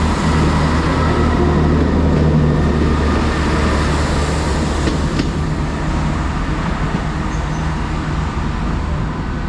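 A Great Western Railway class 166 diesel unit, 166208, working a service to Paignton at Exeter St Davids station, giving a steady loud engine rumble and hum that fills the whole stretch with little change and no talk.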